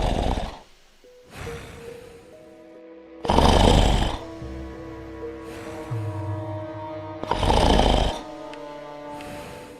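An exhausted soldier snoring in an army camp, three deep rasping snores spaced a few seconds apart, loud and close, with softer rumbling breaths between them.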